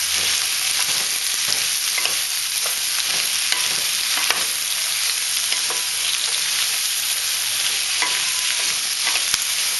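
Chunks of carrot and onion stir-frying in a hot pan for a leftover pork Thai stir fry, a steady close sizzle with scattered spatula scrapes and ticks throughout, no talking.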